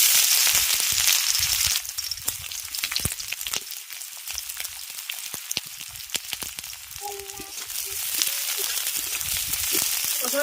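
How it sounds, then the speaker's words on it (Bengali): Chopped onions sizzle and crackle steadily in hot mustard oil, a dense frying hiss with sharp pops that swells again near the end, with occasional stirring clatter. "তেল গরম হয়ে গেছে, এবার তেলের মধ্যে দিয়ে দিচ্ছি কুচনো পেঁয়াজ।"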